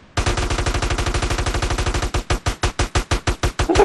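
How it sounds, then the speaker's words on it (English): Automatic gunfire rattles in GTA San Andreas, a fast, steady stream of loud shots that becomes a slower, evenly spaced series of separate bangs toward the end. "let's open fire"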